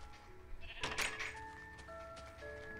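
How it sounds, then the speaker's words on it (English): A single bleat from a sheep in the Minecraft video game sounds faintly in the middle, with soft tonal in-game noises and low background hum around it. "Look at that sheep."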